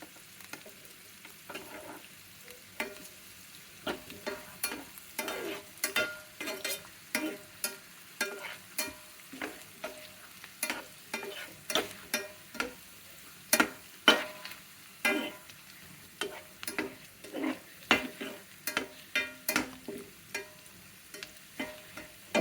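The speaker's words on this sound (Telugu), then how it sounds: "బాగా పచ్చివాసన పోయే వరకు వేయించుకోవాలండి ఇది" Whole grain atta noodles frying in a pan, a soft sizzle under repeated scraping and stirring strokes from a spatula, irregular and close, with no talk.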